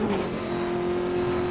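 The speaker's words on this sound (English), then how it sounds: "I really like this car, and I think this car is fast" Engine of a fast car in a police-chase video game revs loudly and steadily, a sustained tonal drone holding throughout the short stretch with no talking over it.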